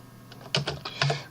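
A few quiet computer keyboard key presses click in quick succession over a faint background hum, while deleting edges in SketchUp.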